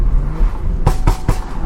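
BMW engine revving in second gear during a drive, a steady low drone broken by three sharp, loud rev bursts close together near the end.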